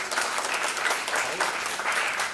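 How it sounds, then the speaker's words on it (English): Audience at an investment buyouts summit clapping together, a dense, steady wash of applause from a large crowd that holds evenly for the whole stretch with no voices over it. "this energy, this sound and the applause sounds good to me here"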